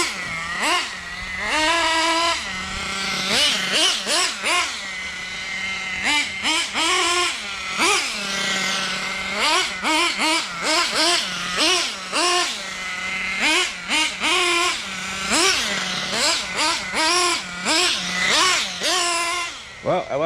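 A Kyosho Inferno GT2 Mercedes AMG GT3 nitro RC car being run hard on break-in tanks, its small engine buzzing loudly in repeated sharp revving bursts that rise and fall rapidly, close by.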